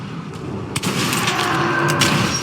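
Rifle gunfire in the video game Metro Redux: a sharp shot or two cutting through a dense, continuous wash of in-game noise, fairly loud and close.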